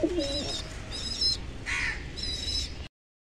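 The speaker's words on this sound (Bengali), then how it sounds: "আপনারা দেখুন পায়রা" Pigeons in a loft, close repeated calls in several short bursts with a low coo near the start, against quiet background noise.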